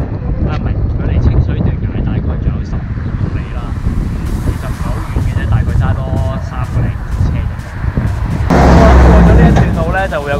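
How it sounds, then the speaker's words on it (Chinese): Strong wind blasts near the Taroko bridge in Hualien, roaring loudly and steadily into the microphone with a dense low rumble for about ten seconds, swelling harder near the end, while a person speaks over it. "哇，好大风啊！"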